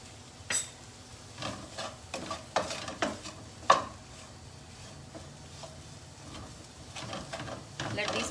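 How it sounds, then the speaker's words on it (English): Potatoes sautéing in a pan, a soft low sizzle under scattered stirring scrapes and light clinks of utensil against metal, fairly quiet and close. "Let these potatoes saute"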